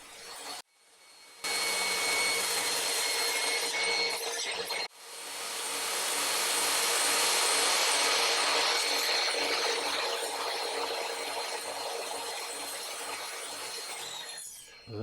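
A saw cutting lumber for a wall-mounted lumber rack, fed on a sled in a workshop: loud continuous whine with rasping cut noise, stopping briefly then resuming for a long pass before winding down.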